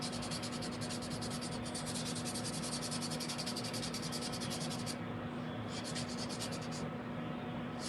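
Dip powder nails being filed smooth, a steady scratchy rasping of a nail file in repeated rapid strokes, close and fairly quiet over a constant electrical hum, with brief pauses near the end.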